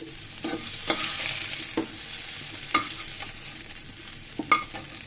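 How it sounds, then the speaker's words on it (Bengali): Potatoes frying in oil in a pan for a cauliflower and potato chicken curry, a soft steady sizzle broken by several sharp scrapes and clinks of stirring. "আলুটা বাফে বাফে সিদ্ধ হয়ে গেছে, ভাজা হয়ে গেছে"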